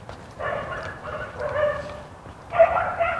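A dog barks and yips in short bursts, a few moderately loud calls separated by brief pauses, with no talking.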